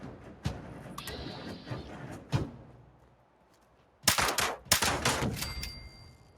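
Explosions and gunfire in a horror-themed video game: scattered thuds and sharp cracks early on, a quiet lull, then two loud, close blasts about half a second apart with a crackling tail.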